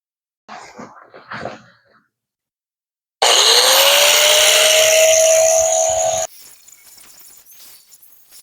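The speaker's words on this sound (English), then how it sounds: "A little bit of a learning curve trying to figure out what works best with that air hammer" A loud, steady pneumatic hammering roar from an air hammer removing rivets lasts about three seconds, preceded by brief rustling and followed by quieter clattering.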